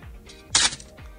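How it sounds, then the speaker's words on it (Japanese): A Canon AE-1 Program film camera's shutter fires once near the middle. It gives a single short, bright mechanical snap with a slight squealing edge, close and clear over faint background hiss. "シャッター泣き、"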